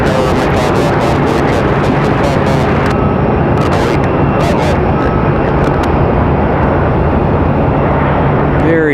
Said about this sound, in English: Very gentle touchdown for the A321